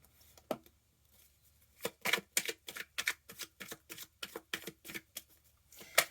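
Tarot cards are shuffled and handled close by in a rapid series of sharp, papery snaps and flicks, each short and distinct, coming in an uneven rhythm over a quiet room with no talking.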